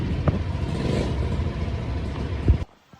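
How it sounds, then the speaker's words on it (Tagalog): A motorcycle engine runs close by with a rough, steady rumble that swells slightly, then cuts off abruptly near the end. "Gamitin ko na muna yung motor."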